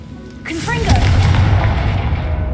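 A spell cast in the Hogwarts Legacy video game: a quick rising whoosh gives way to a loud, booming fiery blast with a rumbling low tail that slowly fades, close and alone.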